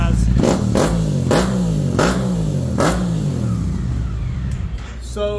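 An unrestricted 2024 Suzuki GSX8R, warmed up, revs hard and close in four sharp rising blips about a second apart, each falling back to a rumbling idle, then settles into a steadier throaty idle.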